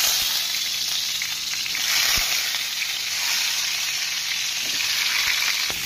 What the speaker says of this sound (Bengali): এবার পটলগুলো ভেজে নিই।